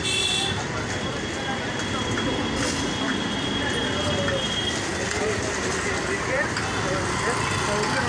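A train hauled by two WAP-4 electric locomotives rumbles past nearby with a steady, continuous roar and faint metallic rattling, while people talk over it.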